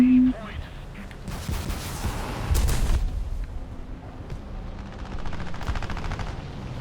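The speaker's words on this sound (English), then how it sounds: "Let's see if we dump a bunch of rockets on whoever's up Bravo." Aircraft rockets fired in War Thunder, a rapid burst of loud cracking launches and booms, followed by a rumbling roar and distant rattling fire.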